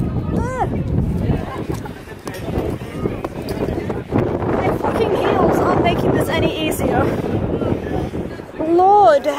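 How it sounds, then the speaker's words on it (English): Strong wind buffets the microphone outdoors at a comic convention, a loud continuous rumble throughout, with people talking and a high voice near the end. "Ah, the wind! I'm literally getting blown back."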